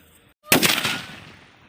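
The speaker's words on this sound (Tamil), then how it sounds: "அடுத்து வெடிக்க போகிறது வந்து லக்ஷ்மி வெடி" A Lakshmi vedi, a Valangaiman country firecracker, goes off with a single loud, close blast after a brief silence, followed by a rumbling, fading echo.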